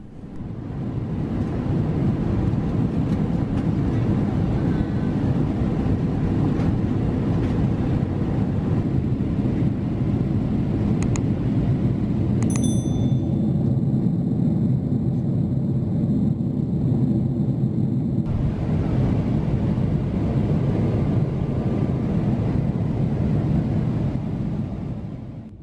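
Steady, loud low-frequency roar inside the economy cabin of an EVA Air Boeing 777-300ER descending into Taipei, a continuous engine and airflow drone with a few faint high chimes or tones partway through and no talk.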